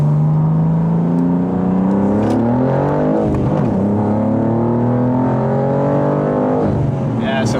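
A BMW G87 M2 pulls hard in second gear, its engine note climbing steadily in pitch, loud and close, with a brief dip at a shift point before rising again.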